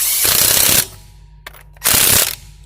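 An impact wrench removes a front sway bar stabilizer link nut on a 2005 Pontiac Grand Prix: two loud, close rattling bursts of hammering, each under a second long, separated by a quiet pause.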